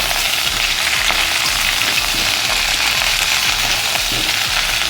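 Winter vegetables, including beans and potatoes, fry loudly in oil with a dense, continuous sizzle close by, broken by faint scraping as they are turned over.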